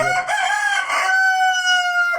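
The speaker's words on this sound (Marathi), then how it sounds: "इकडे कोंबडी आहेत या खोलीत ठेवलेली" A rooster crows loudly and up close in a village house room where chickens are kept overnight, one long drawn-out crow filling the whole moment with no talk.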